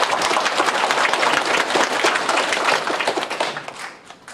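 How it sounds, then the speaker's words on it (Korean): A church congregation claps during Sunday worship in a Korean service, producing a dense, loud burst of applause that thins and fades toward the end. "우리 하나님께 영광의 박수 올려드리고"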